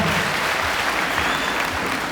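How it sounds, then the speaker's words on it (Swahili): A church congregation at Priesthood Fellowship Church in Kahawa West applauds the preacher, dense sustained clapping from a crowd that stays loud and close throughout. "Haya, tupigie makofi tena mhubiri wetu wa leo."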